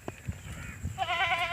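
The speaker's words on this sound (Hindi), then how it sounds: "तो ये है दोस्तों टेडी बकरी, आप इसे देख सकते हैं।" Teddy goat bleating on a Pakistani farm, a loud wavering bleat taking up the latter half after some quieter shuffling and thumps, close to the microphone.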